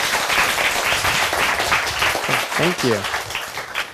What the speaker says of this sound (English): Everyone, a big round of applause for Ms.